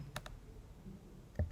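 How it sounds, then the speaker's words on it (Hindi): A few soft key taps on a computer keyboard as a file name is typed into a search box, quiet and sparse, ending in a slightly louder click or thump. "जब हम किसी फाइल को सर्च करना चाहते हैं तो हम यहाँ पर फाइल का नाम लिखते हैं"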